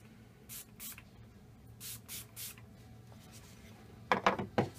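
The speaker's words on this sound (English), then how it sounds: "Take it away from here just to give it a spray." Spraying a light salt coat onto the sides of a project: several short bursts of hissing spray separated by brief pauses, ending with a quicker cluster of sharper sprays, fairly close.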